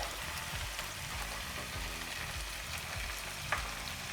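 Beans frying in a pan with a tomato gravy base, a close, steady sizzle with crackling pops and one brief stirring scrape.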